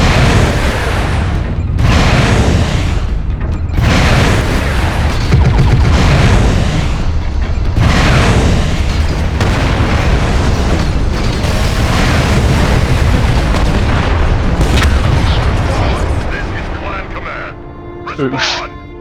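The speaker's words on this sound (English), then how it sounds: "That explosion went off." Explosions and heavy combat booms from mech warfare in the video game MechWarrior Online, a dense, loud, continuous barrage of blasts and bursts for most of the clip, easing off near the end.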